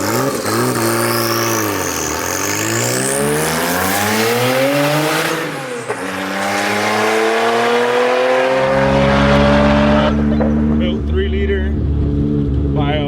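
A modified twin-turbo Porsche 930 with twin GT28 hybrid turbochargers, EFI conversion and 993 GT2 Evo cams, revving hard and loud up through the gears, the engine note rising and falling before settling into a lower drone.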